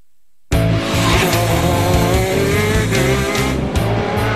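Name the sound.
Italian racing kart with one-cylinder 125cc engine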